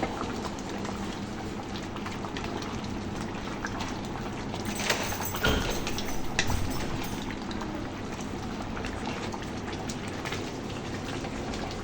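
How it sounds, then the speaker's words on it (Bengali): Rice simmering in a pot on a home stove, a steady dense bubbling hiss with a few louder splutters midway, close and without talk. "এখানে আমি রাইসটা বসিয়ে দিলাম, রাইসটা হতে থাক।"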